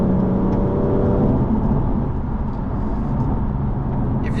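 BMW F82 M4 Competition accelerating hard, a steady loud engine roar and whir filling the cabin with no talk over it.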